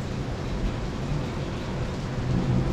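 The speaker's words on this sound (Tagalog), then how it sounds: "malakas pala yung ulan dito sa labas" Heavy rain pours steadily outdoors, a dense continuous wash with a low rumbling undertone that swells slightly toward the end.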